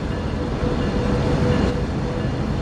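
Freight train with dynamic brake engaged in the Train Sim World 3 video game on Cajon Pass, a loud, steady broadband rumble and roar with no pauses.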